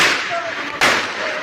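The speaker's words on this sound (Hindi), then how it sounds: "ये देखिए लगातार यहाँ पे फायरिंग हो रही है" Two sharp gunshots from police firing at a political rally, one at the start and a louder one midway, over a noisy outdoor background.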